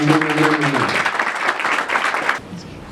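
A church congregation in Lille-Roubaix applauding together: dense, steady clapping close by that lasts a little over two seconds, with a voice briefly under it at the start, then cuts off into quiet.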